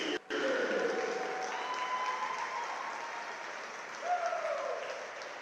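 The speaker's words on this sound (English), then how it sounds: "Fans, let's give one more big round of applause to the 2026 Nebraska Swimming and" Crowd applause for the senior swimmers and divers at a Nebraska college swimming and diving meet, a steady, sustained wash of clapping that fills the natatorium, with faint tonal sounds and cheers running through it.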